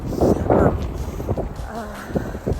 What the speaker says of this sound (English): Also, it's really windy.